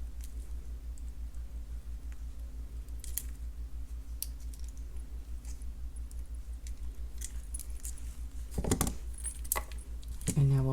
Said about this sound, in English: Grab the loop with your skinny pliers and do a couple of wraps.